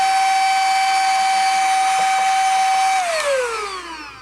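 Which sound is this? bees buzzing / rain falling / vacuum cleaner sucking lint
vacuum cleaner sucking lint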